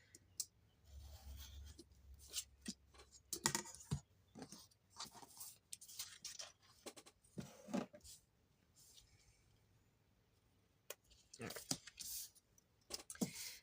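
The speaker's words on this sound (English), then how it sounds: "Go ahead and cut this little section out." Scissors snipping paper for a butterfly journal, scattered short crisp cuts and rustles, close but quiet, with talking at times between the snips.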